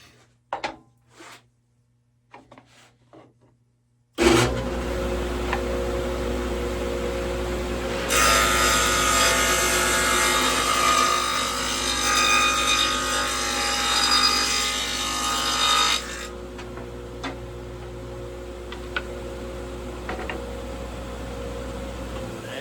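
A deeper dado is cut into a wooden guitar neck: a few light knocks, then a loud sustained cutting whine that holds for several seconds, drops back to a lower machine hum and fades out.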